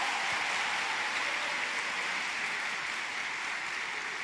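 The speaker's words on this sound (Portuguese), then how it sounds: "Pode aplaudir, pode aplaudir." A church congregation applauds during a sermon. The clapping is a dense, continuous wash that stays even and rain-like from start to finish, with no voices over it.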